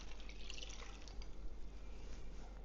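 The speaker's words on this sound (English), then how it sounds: "we're going to put 1 cup of beef broth over all of that" A cup of beef broth poured over seasoned ingredients in a cooking pot for bacon beef and noodles, heard as a faint, steady liquid trickle and splash with no talking.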